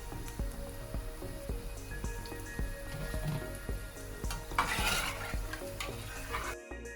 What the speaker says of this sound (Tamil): சுசியம் முருகலாக பொரிஞ்ச உடனே எண்ணெயில் இருந்து எடுக்கிறேன்